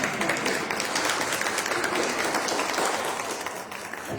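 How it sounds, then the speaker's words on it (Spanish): Audience at a special education conference in Tlaxcala claps for a doctor, a steady, moderately loud round of applause throughout. "Y a la doctora Valentina también un aplauso."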